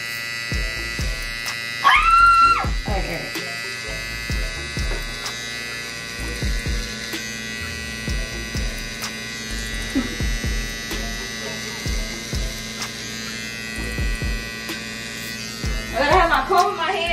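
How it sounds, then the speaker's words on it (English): Electric hair clippers drone steadily through most of a home haircut, with a sharper, louder burst as they switch on near the start, while people talk and laugh close by. "Got the clippers for it."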